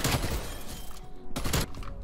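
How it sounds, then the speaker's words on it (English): Rapid gunfire from a multiplayer shooter game, loud dense bursts in two stretches with a brief lull between, close and punchy, no talk over it. "How do you rapid fire like that?"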